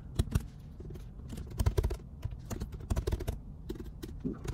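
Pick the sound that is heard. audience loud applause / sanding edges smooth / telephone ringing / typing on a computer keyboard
typing on a computer keyboard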